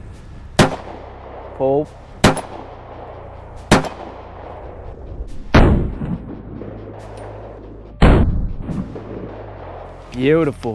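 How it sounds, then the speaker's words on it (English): Five loud pistol shots ring out at intervals, each followed by the clang of rounds striking a steel target, fired through a gun with an Aimwin PN330 RMSc red dot; a man calls out before and after the string. "take some five shots right at that steel"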